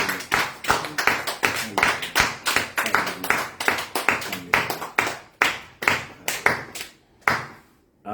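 Church congregation clapping in a steady rhythmic beat, around twenty claps sounding close and loud, with faint voices underneath.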